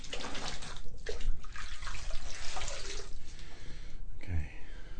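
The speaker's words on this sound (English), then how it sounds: "So let's just rinse off." Tap water runs and splashes steadily into a basin during a cutthroat razor shave, close and continuous, with a voice heard briefly over it.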